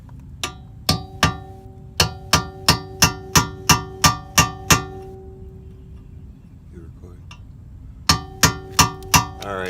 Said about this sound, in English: just chisel that back out